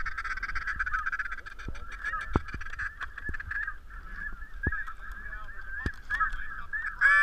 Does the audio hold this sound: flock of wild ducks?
yes